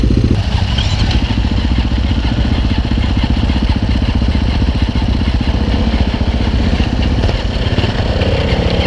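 A Suzuki DRZ supermoto motorcycle engine runs steadily up close, a loud, even mechanical chugging with rattling clatter that holds constant for several seconds.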